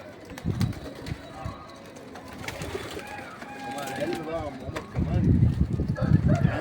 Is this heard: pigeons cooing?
yes